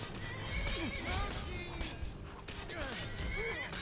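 Horses in the video game Skyrim neigh and whinny several times over a busy game soundscape, with hoof clip-clops and a voice talking at moments.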